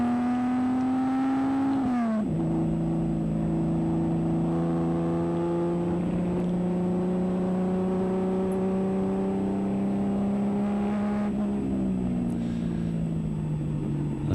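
An HQ Holden race car at Hidden Valley drones steadily in onboard engine sound, shifting pitch between gears and holding a loud, continuous tone without talk.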